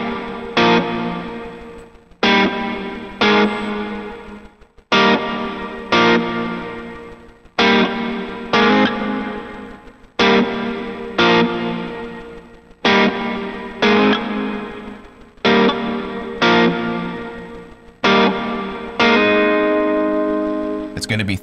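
Electric lead guitar playing a chorus part through effects such as distortion and modulation, in repeated strummed phrases of about two seconds each with brief gaps between them, loud and alone, ending in a sustained ringing chord.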